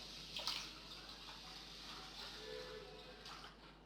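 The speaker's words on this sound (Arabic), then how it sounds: "هنحط هنا الاول كده اللبن بتاعنا" Milk streams into a dish for rice pudding, a soft, close trickle and splash of liquid at low volume that swells briefly and then settles into a gentle continuous pour.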